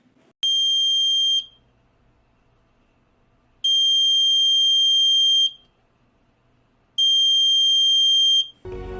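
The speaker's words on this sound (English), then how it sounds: "instead of glowing, a beep sound is produced" Three long, piercing electronic buzzer tones from a small electric buzzer in a simple circuit, each lasting over a second with silent gaps between, loud and steady, followed by a brief rustle at the end.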